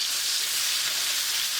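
Onion and whole mushrooms sizzle in a hot pan with a steady, hissing fry that is close and even throughout, without any speech.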